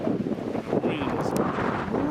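Strong wind gusting across an open trapline in Texas, blowing sand and dirt around, a loud continuous roar buffeting the microphone with rumbling bursts throughout.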